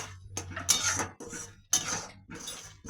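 A spoon scrapes and clinks against a pot while stirring egg tarka with ghee, several rhythmic metallic strokes up close with short pauses between.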